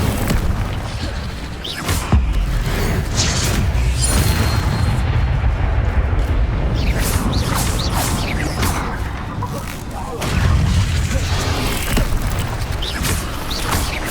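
Fire spells cast again and again in Hogwarts Legacy, Incendio bursts mixed with other spell effects, giving loud booming whooshes and rumbling blasts over a dense, continuous game soundtrack with repeated sharp onsets.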